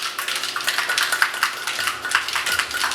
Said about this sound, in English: Now you want to whip shake this until that ice is completely melted.